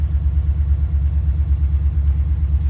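A 1940 Chevy truck engine rumbling low and steady during a U-turn, a close, even drone over a few seconds.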